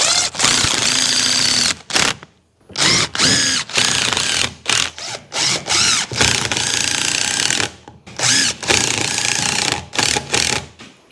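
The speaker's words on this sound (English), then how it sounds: "Then I'm going to run some screws through the back of it." Screws are driven through wood into the back of a chicken treat feeder, a 2x4 fastened to a 4x4, with a power driver whirring in repeated bursts of several seconds, close and loud, separated by short pauses.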